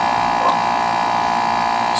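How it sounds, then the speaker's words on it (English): Steady air conditioner running outdoors on a hot day, a constant close hum and whir with a broad buzzing band, unbroken throughout without pauses. "So, sorry about the noise there. That's the AC."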